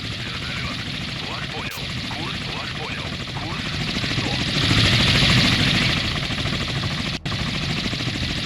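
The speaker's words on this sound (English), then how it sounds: "Still seeing the different helicopters in action." Helicopter rotors chop continuously in the Sea Power naval combat game, a steady thudding drone that swells louder midway and then holds, with a voice talking over it.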